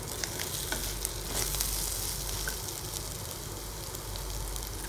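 Onions and other ingredients for a spicy tomato chutney sauté in a pan, a soft, continuous frying crackle with faint stirring at a quiet, even level, and no voices.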